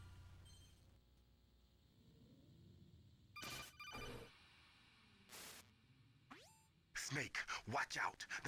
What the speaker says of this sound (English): are we gonna get the phone call?